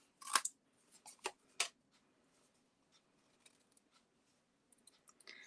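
Scissors snip around a stamped image cut out of paper, close and quiet. A few crisp cuts come early, then a long near-silent stretch with faint small clicks and rustles, and one more soft cut at the end.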